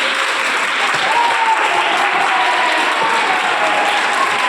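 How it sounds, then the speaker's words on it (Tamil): A church congregation claps together in steady, dense applause that stays loud and continuous throughout, with no voices rising above it. "புரிஞ்சுக்கொள்ள கைத்தட்டு."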